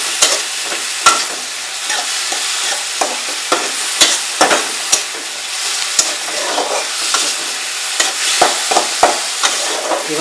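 Shrimp and drumstick stems frying in a pan while being stirred, a loud continuous sizzle broken by frequent sharp clicks and scrapes of the spatula in an irregular rhythm, with no voices.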